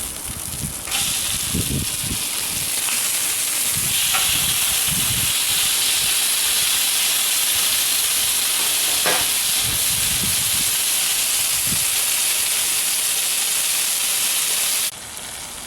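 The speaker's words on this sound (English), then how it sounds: "These have been cooking for about 20 minutes. We're gonna flip them over." Steaks sizzle and fry steadily in a hot pan, a continuous loud hiss broken by a few soft clunks and scrapes as the meat is turned, ending abruptly near the close.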